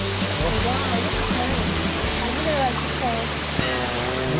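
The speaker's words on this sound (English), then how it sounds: "there's this waterfall. You can hear it." Waterfall in Kaau Crater, Hawaii, a steady broad rushing roar of falling water filling the whole stretch, close and loud, with people talking faintly over it.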